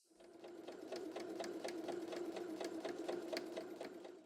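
Sewing machine stitching a welt pocket line, running steadily at close range with a regular rapid needle rhythm for several seconds, no voices.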